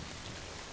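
Rain pouring down in Death Stranding, out in open wilderness: a dense, even hiss of falling drops, steady and unbroken for under a second.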